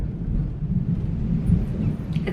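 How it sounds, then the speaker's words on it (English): Thunder rumbles low and continuous outside with rain, a loud rolling roar that swells and settles with no voices. "It's like thundering and raining outside."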